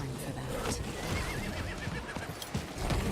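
A horse whinnies with a wavering, rising cry over soft thudding hooves in the video game Diablo 4, all fairly quiet within the game soundscape.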